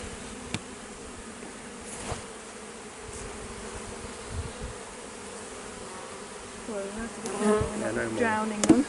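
Dense, steady buzzing of many honeybees close by as they are shaken off hive frames with nectar, with soft knocks and rustling throughout and a louder flurry of activity toward the end.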